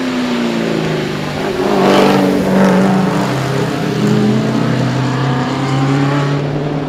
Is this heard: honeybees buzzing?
no